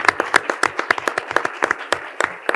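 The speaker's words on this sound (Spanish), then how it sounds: "Con un aplauso, acompáñenme de favor si alguien considera conveniente hacerlo." An audience in a legislative chamber claps in a fairly slow, uneven rhythm of distinct hand claps, moderately close, with no talk over it.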